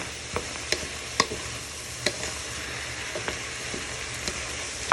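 Onions fry gently in a pan while they soften and sweat, giving a soft steady sizzle with occasional sharp taps and scrapes from stirring, quiet and close, with no talk.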